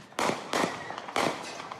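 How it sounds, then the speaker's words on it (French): Three sharp, loud gunshots ring out in quick succession at midnight on a private property in France, each followed by a ragged echo, with no voices in between. "Il est minuit quand soudain, des coups de feu."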